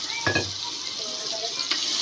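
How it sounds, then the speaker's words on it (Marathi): Spices and asafoetida sizzle in hot oil for a tempering in a pan, a bright continuous hiss close by, with a couple of brief utensil scrapes and clinks over it. "याला चांगली फोडणी बसली आहे."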